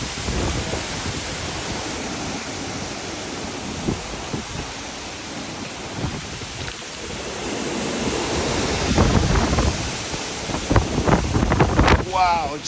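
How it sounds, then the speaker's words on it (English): Gusty squall wind roars through trees beside Lake St. Clair during a summer storm, a dense, rushing broadband blast that swells and surges louder toward the end, with brief voices exclaiming amid the gusts. "just the wind ripping through the trees sounds crazy"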